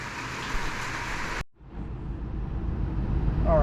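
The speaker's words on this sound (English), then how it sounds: "Sorry about the rain" Steady rain noise hissing throughout, cutting out briefly partway then returning as a rumbling, wind-buffeted downpour.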